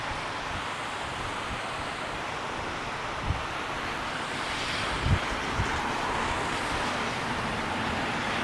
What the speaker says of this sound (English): this is one of the creeks by our home. You can see basically water coming down